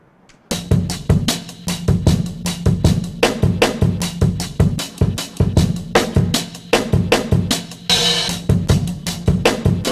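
Random slices of a sampled drum beat are chopped and replayed by a ChucK program, giving a dense, stuttering run of loud kick and snare hits at an uneven, glitchy rhythm with a brief cymbal wash near the end, no talk.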